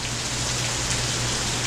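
Steady rain falls on a rainy day during hurricane season, a dense, even hiss of drops spattering on surfaces with a low hum underneath, continuous and fairly close throughout.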